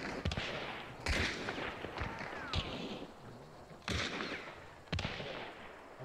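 Gunfire in the video game Hunt Showdown: five sharp, loud shots spaced a second or so apart, with faint voices in between.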